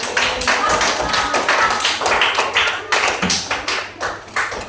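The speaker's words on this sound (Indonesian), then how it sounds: "Kasih tepuk tangan yang meriah dulu dong" A group applauds at a school-style gathering after performances, with uneven, distinct claps close by that rise and fall in bursts rather than a smooth roar.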